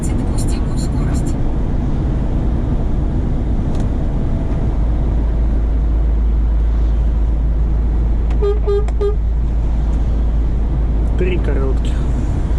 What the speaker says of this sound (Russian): вот я сейчас подам звуковой сигнал